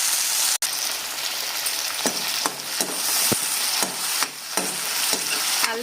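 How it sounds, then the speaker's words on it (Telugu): Ginger garlic paste fries in a pan for veg biryani, a loud continuous sizzle close up, with a spoon scraping and stirring at a regular pace. "అల్లం వెల్లుల్లిపాయ పేస్ట్ పచ్చివాసన పోయేంత వరకు వేయించుకోండి."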